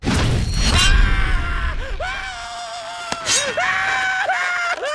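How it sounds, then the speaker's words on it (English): A voice screams on and on at close range in a loud, shrill, wavering wail that breaks briefly and then resumes, over deep booming thuds at the start, in an animated battle scene. "Just stop screaming and die."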